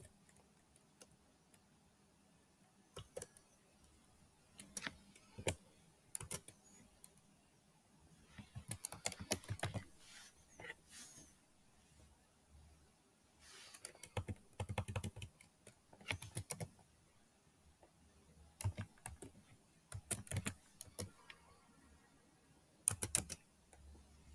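Keystrokes on a computer keyboard entering a home address, coming in scattered clusters of quick clicks separated by quiet pauses, faint and close, with no talking.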